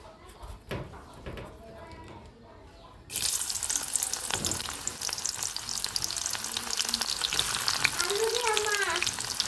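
Onions drop into hot oil in a wok for khichuri, setting off a sudden loud, close sizzle that keeps hissing steadily, with a voice briefly audible near the end.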